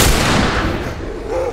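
Rapid gunfire in The Last of Us during a besieged fight, with loud, dense bursts of shots and booms filling the whole stretch, close and continuous.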